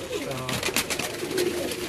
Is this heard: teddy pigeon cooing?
yes